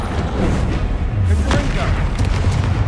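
Booming spell blasts from a duel in Hogwarts Legacy, loud and dense with overlapping impacts, shouted incantations and game clatter layered throughout.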